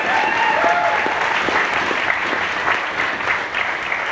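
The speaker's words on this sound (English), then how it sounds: "We gotta give a round of applause for the triple door." A concert crowd at the Triple Door venue applauds steadily during a show, loud sustained clapping filling the whole moment.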